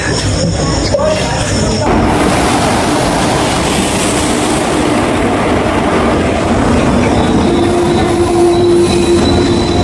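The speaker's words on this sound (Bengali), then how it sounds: "দেখতে দেখতে আমাদের ট্রেন ঢুকে গেছে" Train pulling into a station, a loud continuous rumble of wheels and carriages with metallic squeals and a sustained high screech, voices faintly mixed in the din.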